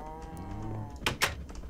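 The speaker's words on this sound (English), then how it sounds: "Where's the lava cow at? He looks like a lava cow." A lava cow in the Minecraft Project Ozone 2 modpack gives a low, drawn-out moo, followed by two short sharp clicks or knocks over a quiet background.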